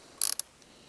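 An 8mm socket wrench ratcheting a screw out on a Honda CRF300L motorcycle front fork, a quick close burst of about six sharp clicks followed by one more click, then quiet.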